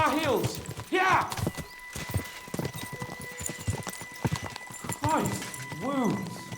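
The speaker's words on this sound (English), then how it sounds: "We should spur the horses on." Horses gallop in the video game Kingdom Come: Deliverance 2, with a rapid rhythmic clip-clop of hooves running throughout, under people talking.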